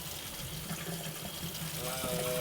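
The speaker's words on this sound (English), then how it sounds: "Wash our hands." A kitchen tap runs steadily while hands are washed during chicken preparation, a soft continuous hiss of water with a faint voice in the background.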